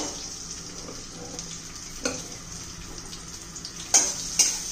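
Garlic and green chillies sizzling in hot oil, a soft steady crackle with a few sharper spitting pops near the end; no one speaks.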